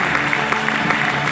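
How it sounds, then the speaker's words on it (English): Audience applause at a disability awards ceremony in Chennai, a dense, steady patter of many hands clapping together, filling the short moment evenly. "Ladies and gentlemen, please keep the applause going"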